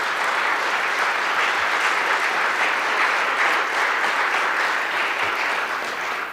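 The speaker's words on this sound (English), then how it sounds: "Let's give them one more round of applause." A large audience applauds the color guard at a military support speech, a dense, even roar of clapping that holds steady throughout and begins to fade at the very end.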